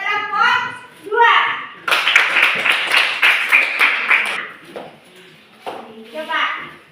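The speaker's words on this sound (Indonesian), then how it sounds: "Tepuk tangan dulu untuk kelompok 2." Classroom applause for a student group during a science lesson, a burst of rhythmic clapping lasting a few seconds, with children's voices and a teacher speaking before and after it.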